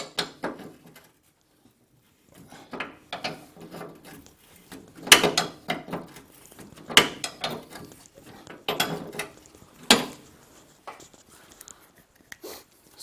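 A 22mm spanner works a bolt loose on a Morris Minor engine, giving a series of irregular close metallic clicks, ratcheting knocks and scrapes separated by short pauses.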